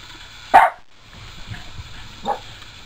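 Dogs bark at a stranger pulling into a home driveway: one loud, sharp bark close by, then a pause and a second, softer bark a moment later.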